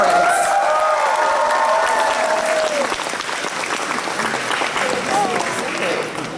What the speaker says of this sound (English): A round of applause to our 2 co-chairs on their amazing conference.